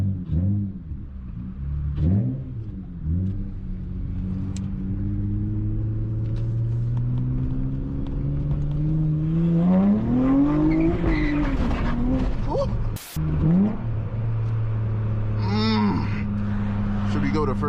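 A loud V6 Honda Accord accelerates hard along a city street, its engine note climbing through the gears with a rising rumbling roar heard from inside the car, plus a sharp click partway through.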